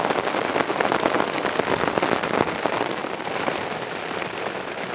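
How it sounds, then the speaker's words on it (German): Steady, dense patter of rain drumming on a tent during a wet night camping in Palermo, Sicily, a continuous loud crackling wash that stays even throughout with no talking. "Wir sind gerade aufgewacht von Regen."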